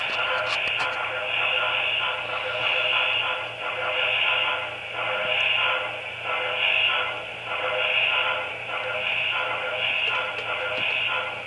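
A model locomotive idles with a steady electronic drone that swells and fades in slow regular pulses, close and fairly loud, with no talking.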